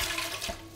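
Coconut water is poured into a blender, a short continuous splashing gush of liquid heard alone and close.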